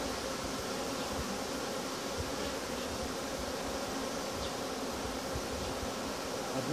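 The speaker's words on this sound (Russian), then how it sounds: "Пчел тут много, как видите." Many honeybees buzz around an open hive while a queen is being introduced and frames are moved. The drone is continuous and dense, moderately close and fairly quiet, with no speech over it.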